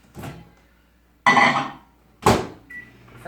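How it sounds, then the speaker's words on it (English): A kitchen microwave is in use to heat 2 cups of filtered water for flour tortilla dough, heard as three separate clunks and bursts of mechanical noise, the last followed by a quieter steady tone. "Go ahead and put that in the microwave"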